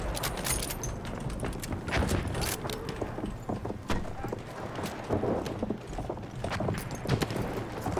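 Rapid hoofbeats of a galloping horse in Battlefield 1 pound steadily amid busy game noise and a voice talking over it.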